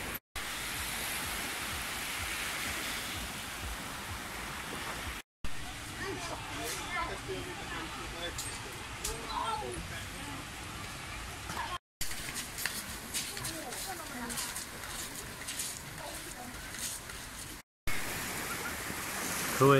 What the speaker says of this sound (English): Hua Hin Beach, Thailand.